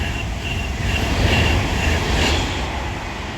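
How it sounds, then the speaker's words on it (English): An Avanti West Coast Class 390 Pendolino electric train passing through Lichfield Trent Valley station, a steady close rumble of wheels and traction noise with faint high whine, holding level throughout without any talk. "As this Avanti West Coast Class 390 Pendolino boards passing through is another Avanti Pendolino from"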